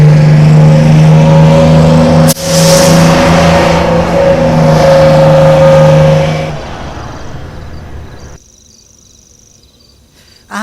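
A car engine revs loudly and steadily, close up, with a sharp click near the start, then the roar fades away and leaves near-silence with a faint high whine.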